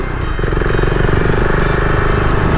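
A Husqvarna Vitpilen 701 single-cylinder motorcycle is ridden on the road, its engine thumping loud and close with a steady, even pulse as it pulls smoothly under light throttle.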